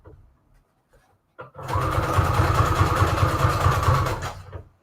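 A sewing machine stitches through a junk journal collage in one loud, steady burst of rapid mechanical chatter lasting a few seconds, preceded by faint handling noises.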